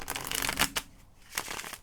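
A deck of tarot cards is shuffled close up in a brief, soft papery riffle, with a few sharper flicks and no voices.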